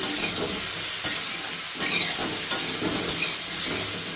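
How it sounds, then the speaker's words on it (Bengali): Mushrooms stir-fried in butter over a high gas flame give a continuous close sizzle, broken by sharp scraping stirs roughly every second. "নেড়ে চেড়ে ভেজে নেব গ্যাসের ফ্লেমটা বাড়িয়ে দিয়েছি"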